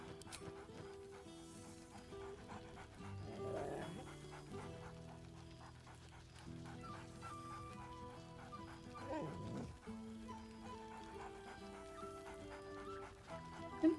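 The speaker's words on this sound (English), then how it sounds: "Scratch barks merrily in something like agreement." Scratch the dog from the video game Baldur's Gate 3 gives faint barks and whines, joined by soft panting. The sounds come at a low level with a few brief louder yips.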